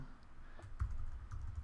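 Keys clatter on a computer keyboard in a quiet room, a short burst of soft, quick, irregular taps that sounds close but fairly faint, with no voices.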